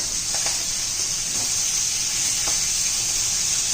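Fish frying in a pan for a fish curry, a continuous, fairly loud hissing sizzle with a few faint clicks as pieces are turned, and no voices.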